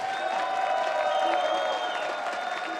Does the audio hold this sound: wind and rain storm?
no